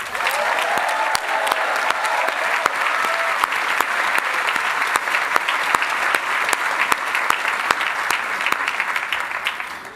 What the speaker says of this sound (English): I'd love to have all of us give a round of applause to our graduates